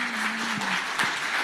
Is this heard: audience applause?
yes